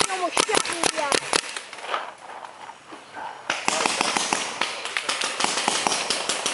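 Gunshots crack during a shootout in a game called Hill Defend, a rapid series of sharp, close pops in bursts with a brief lull in the middle.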